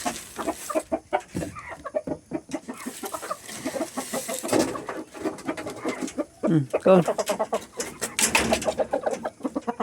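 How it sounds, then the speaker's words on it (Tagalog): Pet chickens clucking repeatedly close by at feeding time, brief bursts scattered throughout, with a person speaking over them now and then. "Yan yung manok"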